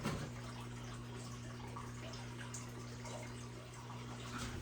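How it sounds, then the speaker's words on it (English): Water rushing steadily through a gold sluice box loaded with paydirt, a continuous close splashing wash with a low steady hum underneath, no voices. "I'm gonna run that again just to see how well our sluice is doing"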